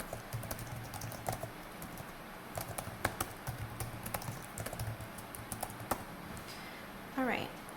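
Someone types a book title on a computer keyboard with quick, light, uneven key taps under a low background hum, ending in a short, brighter sweeping sound.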